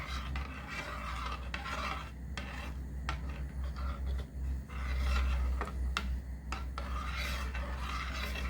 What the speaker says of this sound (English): Maybe by the next minute I can stop stirring this.